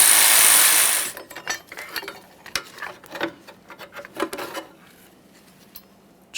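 A ratchet loosens a bolt on the starter of a 2009-2014 Nissan Maxima 3.5L V6, giving close, irregular clicking bursts with short pauses after a brief hiss at the start.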